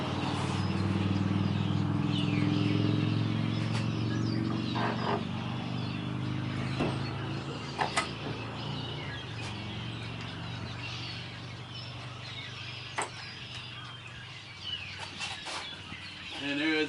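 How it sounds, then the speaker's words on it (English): A flock of blackbirds chatters and calls noisily in the background, a dense scatter of chirps over a low rumble of traffic. "And there is that bunch of blackbirds here."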